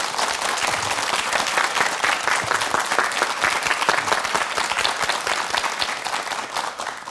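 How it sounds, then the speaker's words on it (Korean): Dense, sustained applause from a TV studio audience on a Korean morning talk show, steady and loud throughout with no voices on top. "큰 박수를"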